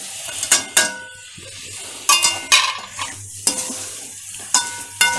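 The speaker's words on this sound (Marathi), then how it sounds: "आता ह्याच्यामध्ये आपण ही भाजी टाकून घेऊया करंदे." Karande wild tubers stir-fried in hot masala oil in a pan, with a continuous sizzle broken by several loud spatula scrapes and clanks against the pan at irregular intervals.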